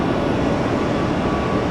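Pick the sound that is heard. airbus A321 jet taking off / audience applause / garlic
airbus A321 jet taking off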